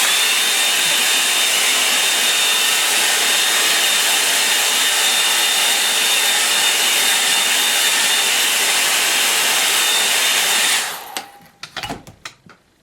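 A hair dryer drying a landscape painting of the River Stour in Kent blows with a loud, steady whooshing hum for about eleven seconds, then switches off, followed by a few handling knocks and clatters.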